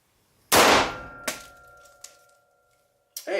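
A semi-automatic pistol fires a single blank round, a sharp loud crack that rings out and decays, followed a moment later by a few fainter metallic clinks.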